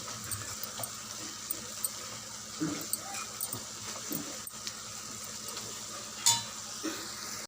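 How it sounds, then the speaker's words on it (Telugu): Spring onions sizzle in a pan as a spoon stirs them, with scattered scraping clicks over a constant frying hiss while a voice talks quietly in the background. "ఉల్లికాడలు బాగా ఫ్రై అయ్యేదాకా మూత పెట్టి ఫ్రై చేయాలి తీసి మధ్య మధ్యలో కలుపుతూ ఫ్రై చేసుకోవాలి"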